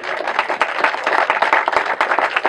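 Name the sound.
audience applause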